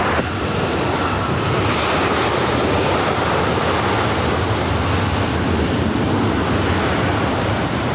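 A Boeing 747 jet takes off on runway 7 left at LAX, producing a loud, steady broadband engine roar that holds unbroken throughout, with no talking.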